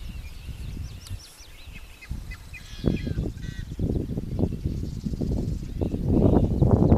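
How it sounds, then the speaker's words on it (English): Birds call at Silver Creek Preserve with faint, quick chirps and trills in the distance, mostly early on, beneath a rising rustle of nearby rumbling outdoor noise. "Hope you can hear all the birds"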